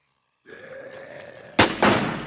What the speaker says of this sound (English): They are shooting me.